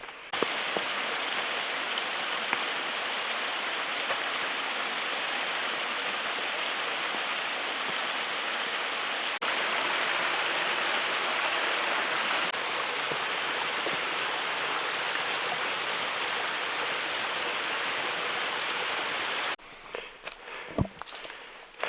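A waterfall and stream rush near Big Creek, Missouri, a steady, loud, broadband hiss of falling water heard close, with a brief shift in tone partway and a quieter stretch at the end.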